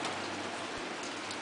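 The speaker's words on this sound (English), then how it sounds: "It's actually rain. This rain sucks." Steady rain falls as a dense, even hiss, continuous and fairly quiet throughout with no other clear sounds.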